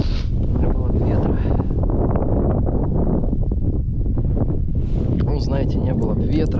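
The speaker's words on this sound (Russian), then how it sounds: "ветер еще просто, конечно" Strong wind roars and buffets the microphone throughout, loud and rumbling, with a person's voice partly buried beneath it.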